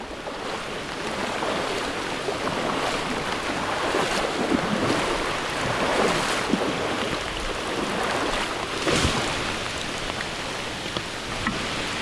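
Strong, fast-flowing stream water rushing across a route people are trying to cross, a loud, steady roar and splash that runs unbroken throughout with small surges.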